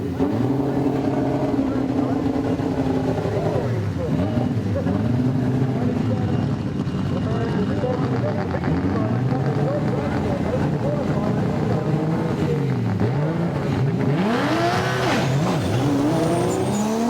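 Drag racing cars at a 2007 HKS drag series event roar continuously and loudly, with rising and falling engine tones as they rev and launch, and a commentator talks over the noise.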